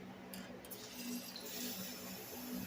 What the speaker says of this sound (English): Filling up my water.